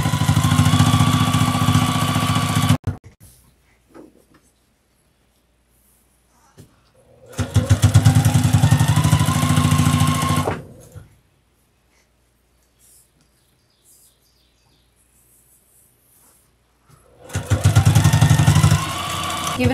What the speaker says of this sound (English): put your presser foot down, and that will give you the tension you need to get your first stitches in